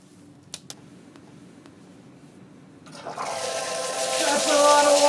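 A lab emergency safety shower releases a heavy gush of water after a couple of sharp clicks, the rushing torrent swelling quickly and growing louder until it roars close by.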